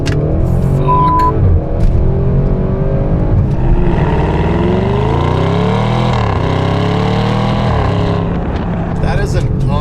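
An Audi RS6 Avant, a 700-plus horsepower street wagon, revs hard under full acceleration from low speed, its engine note rising steadily through the gears, loud and close from inside the car, with a voice briefly over it.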